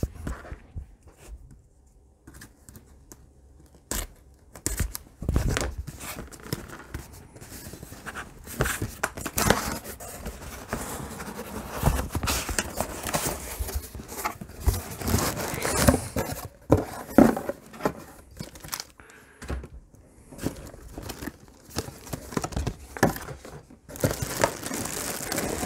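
Crinkling and tearing of packaging as a parcel holding an Ethix Heated Deluxe Lipo Bag for FPV drone batteries is opened, with busy, close rustling and crumpling that runs almost continuously.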